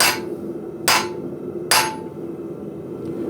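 A blacksmith strikes a rivet punch with a hammer, driving it down into hot metal: three sharp, ringing metallic blows spaced nearly a second apart over a low background hum.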